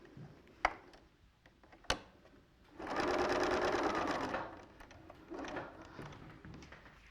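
Sewing machine stitching patchwork pieces chained together with a thread leader, with a few sharp clicks and a steady whirring run of stitching of a second or so, followed by a shorter, quieter burst.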